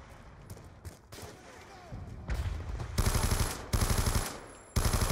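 Sniper shots and gunfire in the video game Call of Duty Black Ops 2, scattered cracks early building to loud, sustained bursts of rapid automatic fire in the last seconds.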